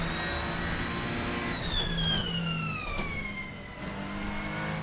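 A Ferrenzo P49 racing car engine in Assetto Corsa holds a loud, sustained whine through the whole stretch, its pitch easing down and then climbing again as it shifts and revs.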